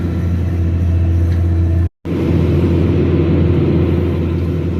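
A tractor engine runs with a loud, steady, close-up low rumble that cuts out for a moment partway through.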